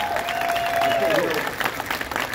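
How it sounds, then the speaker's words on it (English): A ceremony crowd at Barry Sanders' statue unveiling for the Detroit Lions applauds his mother with steady, moderately loud clapping, while a faint tone glides beneath it. "thanks for that great clap for her"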